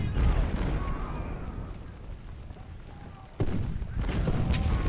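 Artillery battery firing in the Civil War strategy game Ultimate General, at the Battle of Prairie Grove: a steady rumble of distant cannon fire and crackling volleys, with a sharper, louder boom near the middle followed by continued dense gunfire.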